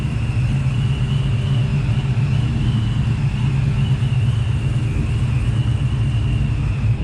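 Cammed-up engines idle nearby, a 4-valve modular motor, a 302 cubic inch 5.0 pushrod V8 and an LS 6.0, in a steady loud, lumpy rumble with no voices.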